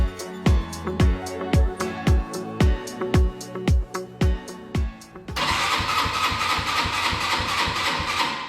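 A snowmobile engine cranks in a garage with about ten slow, evenly spaced turnover strokes, then catches and fires into a loud, steady running roar. Nobody speaks.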